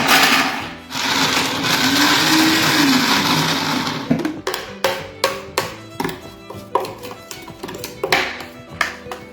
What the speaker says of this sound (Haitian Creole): Je vais mettre dans le blender. Je vais le pousser.